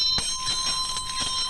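A singing bell rubbed around its flange with its clapper, giving a sustained ringing tone with faint repeated scraping strikes as the clapper circles, fairly quiet and alone.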